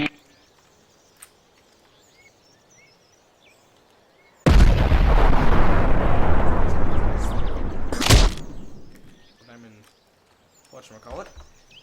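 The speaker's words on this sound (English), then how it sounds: "And then you have the incendiary shell." An incendiary artillery shell from the Garry's Mod video game goes off with a sudden loud blast, followed by a roaring, crackling burn lasting several seconds, then a sharp burst. Quiet before the blast, with faint speech later on.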